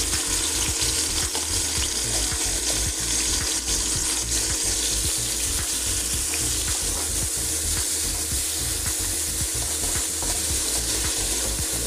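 Chopped onion sautés in a little oil in a pot, giving a steady, close, loud sizzle with stirring scrapes running throughout and no talk.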